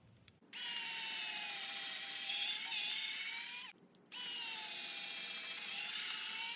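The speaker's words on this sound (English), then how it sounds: "Drilling all the holes." A power drill bores holes into scrap wood in two long, steady high whines, each several seconds, separated by a brief pause, close and loud with no talking.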